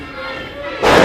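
A wrestler crashes down onto the mat from a finishing move in a pro wrestling match, a single heavy thud and slam arriving near the end, preceded by an announcer's commentary.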